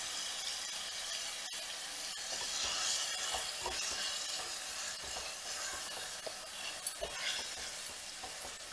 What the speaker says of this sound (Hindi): अब इसमें चिकन का कीमा डालते हैं। हीट को मीडियम करते हैं।